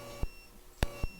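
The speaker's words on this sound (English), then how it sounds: "This one beeps." A dog shock collar beeps three times in short, unevenly spaced chirps against a quiet indoor background, with no talking.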